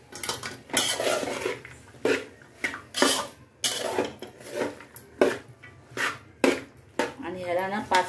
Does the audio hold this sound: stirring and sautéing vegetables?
yes